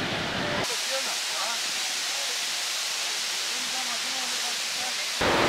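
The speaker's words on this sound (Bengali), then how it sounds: "তো সুন্দর জল পড়ছে এখানে।" A waterfall in the Jaintia Hills of Meghalaya rushes in a broad, steady roar of white noise, close and loud, with faint voices and chatter barely showing through.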